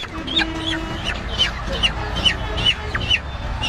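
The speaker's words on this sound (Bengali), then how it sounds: "মুরগি" Chickens cluck in a steady series of short, sharp calls, several each second, over a bed of crowd noise and distant chatter.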